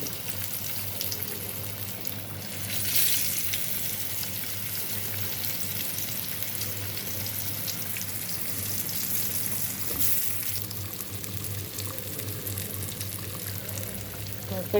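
Oil fries quietly in a pan while fish is cooked with sponge gourd stems. A soft, continuous sizzle runs throughout at a low, even level, swelling slightly now and then.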